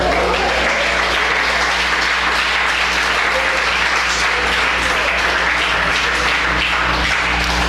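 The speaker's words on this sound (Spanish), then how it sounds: "Denle un aplauso al Señor y alábelo." Church congregation applauding at a worship service, a dense, steady wash of many hands clapping together without a break, loud and close throughout.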